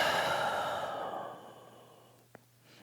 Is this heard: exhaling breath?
yes